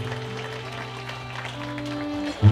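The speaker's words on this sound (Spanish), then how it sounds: "Que se escuche fuerte el aplauso para Angélica y Juan" Wedding guests clap for the bride and groom, Angélica and Juan, a steady dense wash of applause from a crowd indoors, continuing evenly with a low musical hum beneath and a louder thump at the end.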